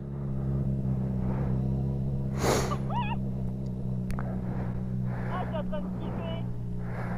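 A motorcycle engine carried over a helmet intercom drones steadily under a voice and hums on the rider's practice ride, rising slightly as it accelerates, with faint wind noise in the background.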